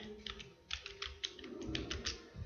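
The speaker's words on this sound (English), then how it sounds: "Then press F9 key from keyboard." A single key pressed on a computer keyboard, with soft typing clicks scattered through the short stretch, close and fairly quiet, with no talk over it.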